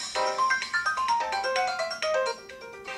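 Music plays from a Samsung phone speaker in a Group Play setup, a bright melodic pattern of quick repeated notes and pulses, fairly close and clear, with no talking.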